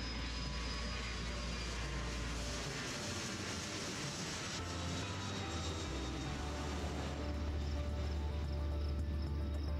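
Aircraft engines droning at an airport in the management game Airport CEO, a steady mid-level hum with tonal whine and low rumble that shifts in pitch as planes move, no talking.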